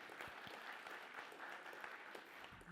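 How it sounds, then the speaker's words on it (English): Applause for the sponsors at a conference keynote welcome, a faint, steady spatter of many hands from a distant audience, lasting nearly three seconds. "A round of applause to our sponsors."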